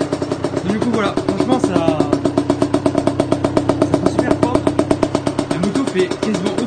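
A restored Gilera SMT motorcycle engine idles close by with a steady, pulsing putter, loud and even throughout, while someone talks over it.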